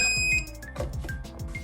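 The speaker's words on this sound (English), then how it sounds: "Just to make a little beep sound" An Adidas C-24c exercise bike console gives short electronic beeps, several clear tonal pips in quick succession close to the mic, over a low rhythmic mechanical hum.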